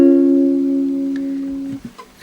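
A single guitar chord in FGC3 tuning, the second in a chord exercise, struck once and left to ring, then damped near the end with a soft string noise.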